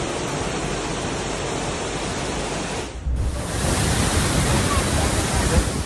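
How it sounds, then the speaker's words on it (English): Loud, steady roar of rushing flash-flood water in Japan, a dense broadband wash that dips briefly near the middle and then returns even stronger, close and continuous with no voices. "you can see the effects of flash floods in Japan"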